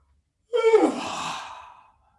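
A single long, breathy yawn opens with a voiced low rise and trails off into an airy exhale lasting over a second, close and alone in a quiet room.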